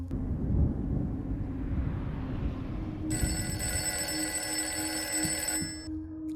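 Landline house telephone ringing in a steady electronic tone over a low droning background, starting partway through and lasting a few seconds before cutting off.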